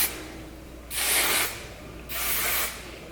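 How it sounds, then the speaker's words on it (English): Hairspray is sprayed over curled beach-wave hair in two separate bursts, each a close, bright hiss lasting about half a second, with quiet pauses around them. "Give it all a spray."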